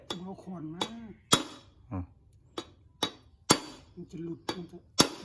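A hammer strikes a metal part during repair work on a log-loader truck. Sharp, loud, ringing blows land about once a second, and someone talks between them.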